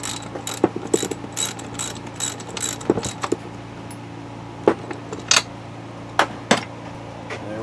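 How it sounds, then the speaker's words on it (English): A socket ratchet clicks while loosening the spark plug on a Homelite Super 2 chainsaw, with bursts of close ratcheting clicks and scattered sharp tool knocks. "our spark plug takes a 5/8 socket."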